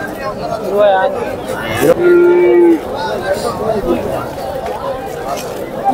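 A calf at the Bangarupet calf market gives a clear, sustained moo of about one second. It sits close among crowd chatter and people talking nearby.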